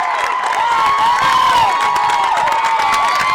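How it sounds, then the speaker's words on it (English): A football crowd cheers and shouts steadily at halftime of a high school game between Dardanelle and Boonville, a dense, sustained roar with whistles and shrill voices rising and falling throughout. "As you can hear the crowd"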